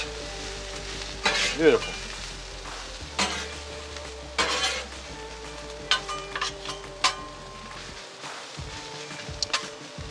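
Sausage and cabbage sizzle and sauté on a Blackstone griddle, with a steady fry under sharp clanks and scrapes of a metal spatula, while a voice speaks briefly.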